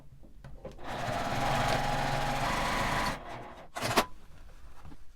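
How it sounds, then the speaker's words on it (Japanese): A sewing machine runs a steady edge-stitch along the zipper of a small lined fabric pouch, a continuous close whirring for about two seconds that stops, followed by brief handling clatter. "ここに端ミシンをかけます。"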